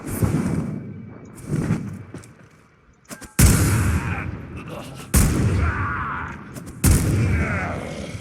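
Redeemer Prime gunblade firing in the Warframe video game: a few softer pops early on, then three heavy booming blasts spaced a second or two apart, each trailing into a rumbling tail.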